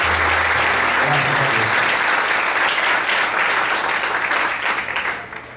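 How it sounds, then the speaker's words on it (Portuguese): A church congregation claps together in sustained, dense applause that stays loud and close throughout, fading slightly at the very end. "Você pode desocupar sua mão e aplaudir."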